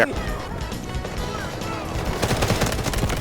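Loud, dense bursts of video game gunfire crackle in quick succession, with heavy impacts and a voice faintly underneath.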